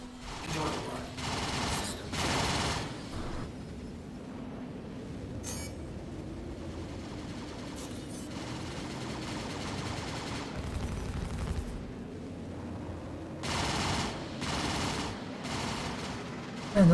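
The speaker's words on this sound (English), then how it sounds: "those guns sound monstrous" Star Citizen ship guns fire in several loud, rapid bursts spread across the scene, separated by quieter stretches of mechanical hum, with someone talking at times between them.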